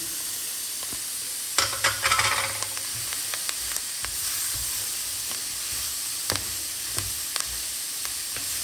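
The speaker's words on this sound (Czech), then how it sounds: "až tady ta cibule opeče s tou zeleninou" Onion fries with vegetables in a pan and gives a low, continuous sizzle and hiss. Brief clatters of stirring come through now and then, with a louder burst of stirring early on.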